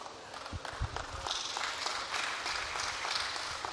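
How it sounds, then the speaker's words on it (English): Audience applause at the close of a national conference speech, a moderate, even wash of clapping from the hall lasting a few seconds, with no voices over it. "I think it should be a resounding applause more than this."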